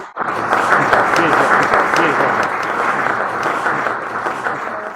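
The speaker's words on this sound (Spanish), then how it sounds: "les agradecemos con un aplauso" An audience at a talk gives a round of applause that starts abruptly, then holds as a broad, steady wash of many hands clapping before tapering slightly toward the end.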